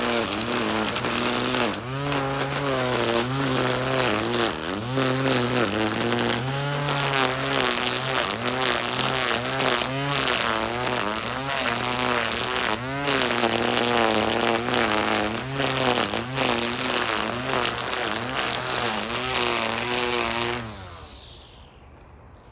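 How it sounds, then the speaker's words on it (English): A gas-powered weed eater trims in a garden bed, its high buzzing engine running steadily and loud at close range for about twenty seconds, pitch wavering slightly as the throttle shifts, then cutting off at the end. "Hit it one more time with this weed eater."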